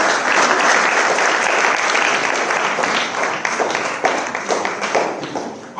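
An audience at a Mahavir Jayanti celebration applauds certificate recipients: sustained, dense clapping from a full room that holds steady and then thins toward the end, with a few louder individual claps standing out.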